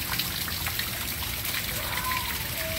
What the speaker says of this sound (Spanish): Miren cómo me está cayendo el agua aquí.